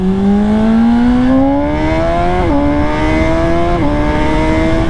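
A 2022 Honda CBR 600RR screams under full throttle, its engine note climbing steadily through the revs, then dropping sharply at two quick upshifts before rising again, loud and close with no talk.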